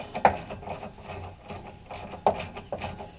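An old Craftsman ratchet clicks rhythmically while unscrewing a brake caliper slide pin on a 1970 Camaro, close up, with a couple of sharper clacks between the steady ratcheting strokes.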